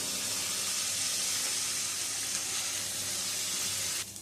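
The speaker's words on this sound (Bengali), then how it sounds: "ফুলকপিটা ভাজা চাপিয়েছি" Cauliflower florets dusted with turmeric fry in hot oil, giving a steady, loud, broad sizzle that holds evenly throughout before dropping slightly at the very end, with no voices over it.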